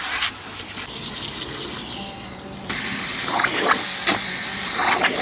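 Sneakers rinsed off under running water after cleaning, a steady close hiss of flowing water that shifts in tone midway as the stream changes, with splashing and no talking.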